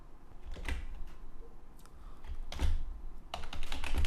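Typing on a computer keyboard while entering code, a few scattered key clicks and short bursts of tapping, close and fairly quiet.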